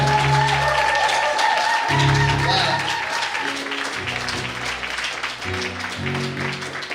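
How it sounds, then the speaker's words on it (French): A standing church congregation at a 2018 CIAMEL Canada gathering applauds and cheers loudly to acclaim Jesus Christ, with sustained clapping and an organ or keyboard chords playing underneath. "nous allons acclamer le Seigneur Jésus-Christ. Acclamons très très fort le Seigneur des Seigneurs."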